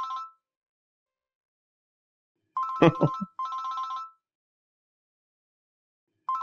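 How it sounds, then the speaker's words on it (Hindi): A phone ringtone plays in repeated bursts with silent gaps between them, and a brief voice is heard mid-clip. "आंटी का फोन आ रहा है"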